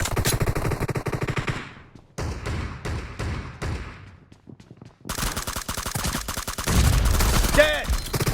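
Rapid automatic gunfire from M416 and Scar-L rifles in a PUBG team deathmatch, dense bursts of rattling shots with a short lull midway, loud and close, with faint game voice callouts mixed in.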